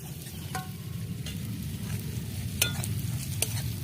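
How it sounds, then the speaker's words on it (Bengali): Eggs hitting a pan of fried spice paste, sizzling steadily and close with a few sharp crackles and spatters over a constant frying hiss. "আমাদের মশলা কষানো হয়ে গেছে, ডিমগুলো দিয়ে দেব।"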